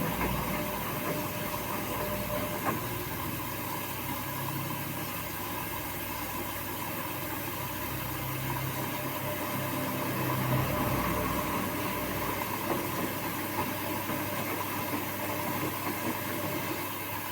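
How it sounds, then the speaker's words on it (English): A washing machine on a full wash cycle fills its drum with water and turns it. A soft, steady rush of water and a low mechanical hum continue at moderate distance, with a faint churning swell near the middle. "Fill up this much of the drum with water, rotate them around a few minutes"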